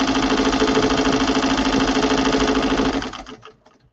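An embroidery machine stitching a logo onto a fabric project bag, a loud, close, rapid mechanical whirring with a steady pulsing rhythm that runs continuously, then slows and stops near the end.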